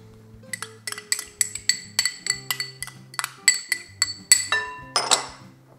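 Metal spoon clinking against glass dishes and bowls while fillings for cabbage rolls are gathered: about a dozen bright, ringing taps in an uneven rhythm, close and clear, ending with a louder rattle.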